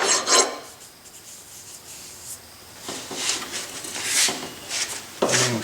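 A hand file rasps burrs off the crankshaft of a Fairbanks-Morse 3HP Z style C engine in several short, close scraping strokes separated by brief pauses.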